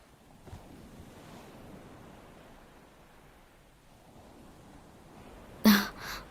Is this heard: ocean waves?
yes